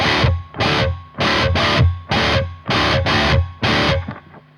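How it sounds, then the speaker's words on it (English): Electric guitar strummed in short, evenly spaced bursts through a Boss Waza Tube Amp Expander Core room reverb, seven or eight chords with a roomy reverb tail; the last chord rings out and fades. "It's basically a reverb"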